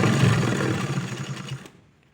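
A sewing machine runs a topstitch along fabric for a sewing project made from leftover blouse material. Its steady motor whir and rapid needle stitching go on for about a second and a half, then stop abruptly.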